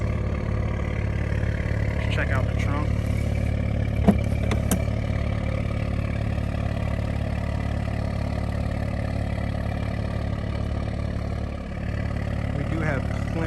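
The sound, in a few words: 2021 Audi S7 exhaust idling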